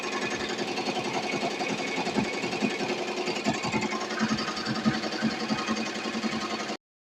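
A Tajima Sai 8-needle embroidery machine stitches a blanket at 650 stitches per minute, a steady, rapid mechanical chatter and hum running loud and continuous before cutting off abruptly.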